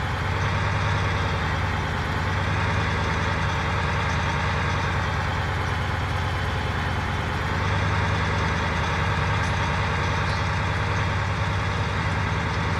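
A truck engine in a farming video game droning at a steady, constant pitch as it drives along, a low even hum that holds throughout with only slight swells and no speech.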